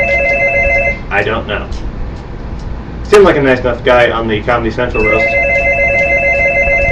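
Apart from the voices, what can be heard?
telephone ringing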